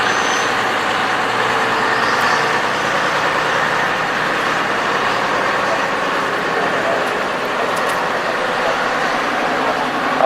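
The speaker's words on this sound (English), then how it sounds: "And now number 40, that's the 1953 Chevrolet step-side pickup truck." 1953 Chevrolet step-side pickup truck with a straight engine driving through a show arena, a steady broadband engine and road rumble throughout with a faint voice over the grounds.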